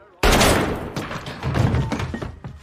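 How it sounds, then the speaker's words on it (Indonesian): A pistol goes off in a film scene: one sharp, loud shot bursts out after a brief quiet, followed by a rumbling, echoing tail and muffled movement. "Arthur pun tanpa sengaja menembakkan pistol tersebut yang ternyata ada isinya."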